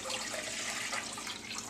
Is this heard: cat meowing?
no